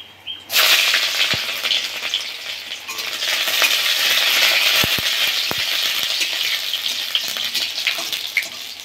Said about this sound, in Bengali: এবার কড়াইতে সর্ষের তেল দিয়ে ফোড়ন দিয়ে দিলাম শুকনো লঙ্কা, কালো জিরে আর থেতো করে রাখা রসুনগুলো।